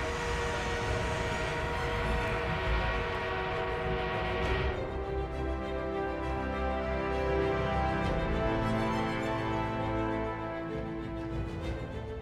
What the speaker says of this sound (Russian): Нам в подмогу прибыл бронепоезд